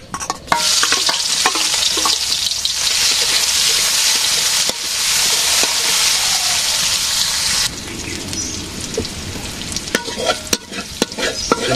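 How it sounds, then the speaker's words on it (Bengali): Soybean chunks fry in a hot pan with a loud, steady sizzle while a spoon stirs them, scraping now and then. The sound is close and runs continuously, quieting somewhat near the end. No one speaks. "সয়াবিন ভাজি হয়ে গেছে"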